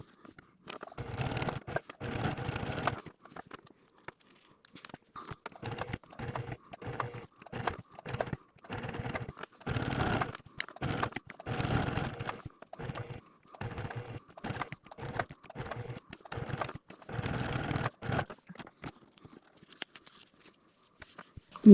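A sewing machine stitches quilt pieces for a Sunbonnet Sue quilt. Quiet runs of rapid mechanical clatter start and stop in short bursts with brief pauses between them.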